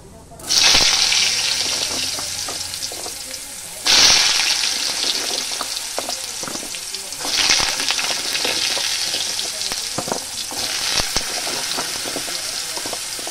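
Potato pieces fry in hot oil in a pan for a Bengali jhinge posto dish, loud close sizzling that surges as each batch is added, then a steady crackle with small stirring clicks.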